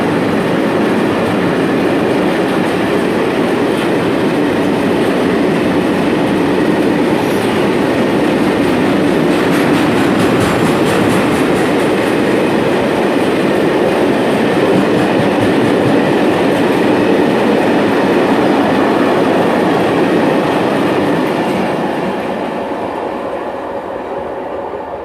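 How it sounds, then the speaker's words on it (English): A car-carrying freight train loaded with Land Rovers and Range Rovers rolls past at Leamington Spa, a loud continuous rumble with steady wheel clatter for over twenty seconds before easing off at the end. "It's a car freight train."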